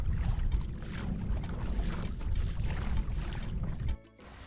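Kayak paddle strokes splash in a regular rhythm as the boat glides along the edge of seagrass beside sand in Crandon Park, with soft water and wind noise close by, ending abruptly.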